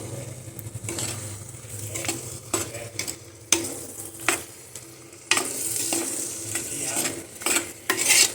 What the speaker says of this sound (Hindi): अब इसको अच्छे से मिक्स करके और इसको फिर ढक के पकाएंगे।